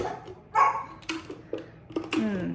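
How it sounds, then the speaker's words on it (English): Dog barks in short bursts, a handful of sharp yips and woofs spread over a couple of seconds, fairly close indoors with some room noise. "he barked at me the whole entire time that I was down there working on those cushions"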